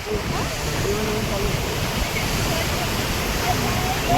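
Saraswati river floodwater rushes strongly across a road near villages by Siddhpur, a dense continuous roar of flowing water heard close and steady with no pause.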